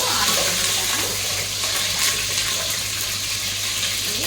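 Onion frying in oil in a home kitchen, a steady broadband sizzle and hiss holding at an even level throughout with a low hum underneath, no voices.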